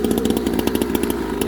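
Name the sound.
6-moto engine of a kids' racing mini bike starting up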